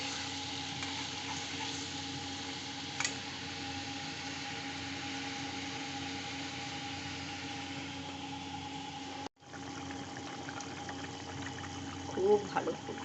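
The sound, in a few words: katla fish curry boiling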